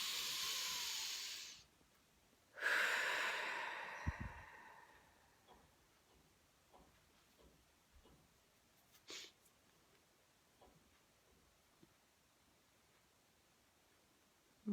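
Two long, deep breaths drawn in and pushed out close by, each a soft, airy rush lasting over a second, separated by a short pause and followed by near silence with faint small movements.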